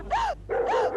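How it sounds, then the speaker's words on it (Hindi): A dog barks twice close by, each bark sharp and bright with a short pause between them. "कुत्ता।"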